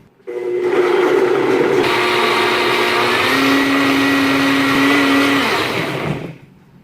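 A blender whirs loudly and steadily through an almond yogurt mixture, with a rising motor whine partway through, then winds down at the end.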